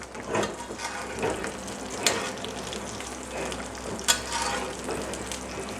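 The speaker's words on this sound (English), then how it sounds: "We want to baste this side of the steak over and over and over again for a couple of minutes, just constantly basting." A porterhouse steak sizzles and spits in a cast iron pan while being basted, steady loud frying hiss with repeated splashing spoon strokes of hot fat.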